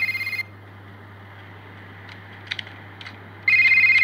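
A phone rings in a gangster video game, its electronic tone repeating in short bursts at the start and again at the end, with faint game sounds in the quiet gap between.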